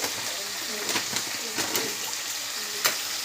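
Masala paste frying in a pan, a constant close sizzle with a few sharp stirring clicks and scrapes scattered through, and a voice talking softly over it.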